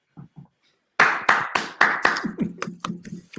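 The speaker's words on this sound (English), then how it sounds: "which is some applause" A few people clapping in a small online conference panel: two faint taps, then a short burst of close, distinct handclaps that thins out.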